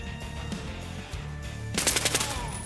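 Bursts of AS VAL rifle fire in the shooter game Warface, a loud close rapid automatic volley after quieter game ambience and a few earlier shots.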